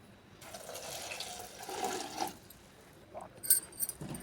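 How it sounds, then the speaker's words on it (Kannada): Puffed rice being rinsed by hand in water, with splashing, sloshing and running water spread over several seconds and a few sharper clinks near the end. "ಈಗ ಒಂದು ಸಾರಿ ತೊಳೆದಿನ್ರೆ ಇನ್ನೊಂದು ಸಾರಿ ನಾನು ನೀರು ಹಾಕಿ ತೊಳಿತೀನಿ ನೋಡ್ರಿ."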